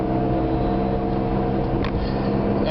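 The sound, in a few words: roaring hum from taxi car while driving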